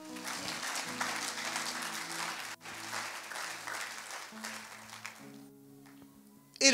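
A church congregation claps in steady, dense applause over soft sustained music, dipping briefly midway before resuming, then thinning out near the end.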